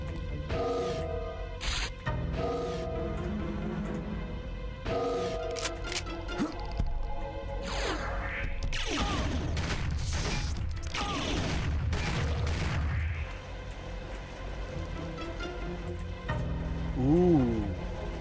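Mag 60 machine pistol fire in Turok 2: Seeds of Evil Remastered, sharp clustered bursts of shots with mechanical clacks and clatter, repeating through the stretch amid game ambience.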